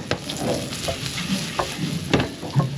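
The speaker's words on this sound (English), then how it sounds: "Fry up the other side." Food sizzles and fries in a pan aboard a boat at sea, a steady crackle with occasional sharper pops and stirring scrapes, close and moderately loud with no talking.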